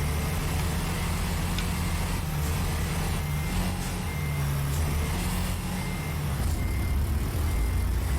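Peterbilt 389 truck reversing in American Truck Simulator, steady repeated backup beeps over a loud continuous diesel engine rumble, no talking.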